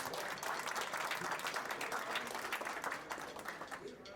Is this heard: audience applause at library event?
yes